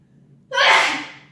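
A single sharp sneeze bursts out after a moment of near silence, close and fairly loud, then fades quickly.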